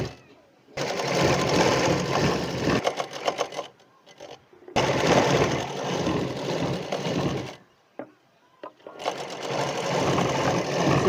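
A sewing machine stitches a folded hem on a suit in three long bursts of rapid, even whirring, close and loud, with short pauses between runs and some talking in the gaps.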